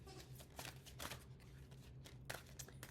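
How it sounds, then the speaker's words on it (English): A deck of cards being shuffled in quick bursts, riffling close by with a soft, papery rhythm over a faint low hum. "And I'm making a mess of shuffling today"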